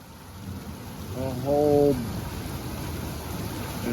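Heavy rain in Leakey, Texas falls as a steady, even hiss throughout, with a brief spoken voice rising over it for a moment.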